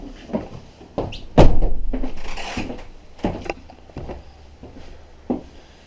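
A door on a Ford Transit camper van conversion swings shut with one strong, close thunk, surrounded by several lighter knocks and rattles of fittings in the van interior.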